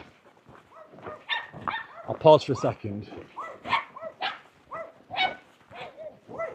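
Dogs bark in a rural Spanish setting, several short barks scattered through the clip under continuous nearby talk.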